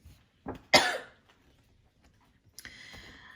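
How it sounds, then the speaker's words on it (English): A few sharp coughs from one person close by, set off by inhaling spicy curry fumes, a hard burst followed by a rougher throat sound, with quiet pauses between. "I just inhaled the smell of it and I'm still coughing."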